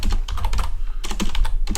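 Quick bursts of typing on a computer keyboard, close and fairly loud, with rapid uneven keystrokes running almost continuously for under two seconds.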